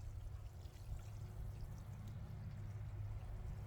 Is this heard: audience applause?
no